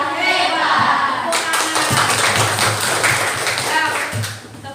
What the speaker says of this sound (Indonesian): Tepuk tangan untuk anak-anak Ibu yang semuanya berkarakter.